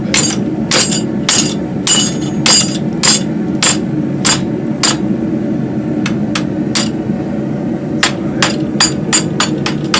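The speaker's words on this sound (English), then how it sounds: "I'm going to just kind of hit it with the hammer on the side." Repeated sharp hammer blows ring against a hot railroad spike being forged into a hook, loud and close, with irregular clusters of strikes over a steady low workshop hum.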